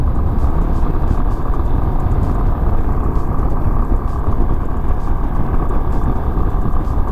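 A Yamaha Fazer 250 motorcycle rides along with a steady, loud engine drone and road rumble that stays constant throughout, with no talking.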